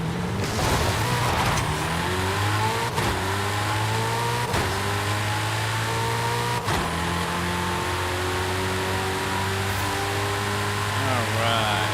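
The Hennessey Venom F5 hypercar accelerates hard in Forza Horizon 5, its engine revving loudly and climbing through repeated gear shifts with brief dips between pulls, continuous and close throughout.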